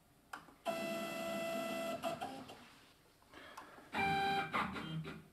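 A mini lathe runs its homing routine, its stepper motors whining in tonal bursts that start and stop, with two longer moves and a few short jogs between them, fairly quiet and with no voices.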